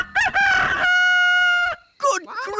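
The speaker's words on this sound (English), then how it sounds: "What are those chickens doing here?" Cartoon chickens cluck and crow loudly and close, with a long sustained cock-a-doodle-doo in the middle framed by short clucks, all without talk.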